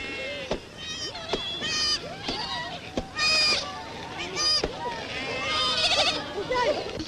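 Many sheep bleat close by in a sheepfold in Taroudant, Morocco, in a 1934 film, overlapping wavering cries in a busy chorus, with sharp knocks and clatter scattered between.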